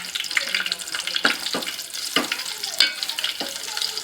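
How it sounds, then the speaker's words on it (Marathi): Curry leaves and garlic sizzle in hot oil as the tempering for a Konkani-style fish curry. A loud, continuous frying hiss is broken by several sharp stirring clanks from a spoon against the pan. "कढीपत्ता आणि लसूणची फोडणी द्यायची"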